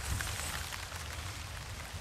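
Steady rain falling on surfaces outdoors, a dense even hiss with faint scattered drop patter and low rumble, continuous and moderately close, with no talk.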